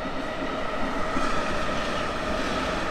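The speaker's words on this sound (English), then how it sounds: "now the trains are gone" A train rolls past nearby, a steady loud rumble with rail clatter that holds for the whole stretch, with no talking heard.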